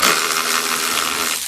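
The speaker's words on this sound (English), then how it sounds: "if you have your electric ratchet, it's more easy" An electric ratchet loosening the rear strut bolts on a 1998 Toyota Corolla, a loud continuous high-pitched motor whir with a fast buzzing rattle, close and steady for its short duration.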